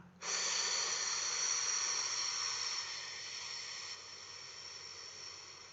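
One long, deep breath taken close to the mic during an energy healing session: a steady airy hiss lasting several seconds that slowly fades, with no talk.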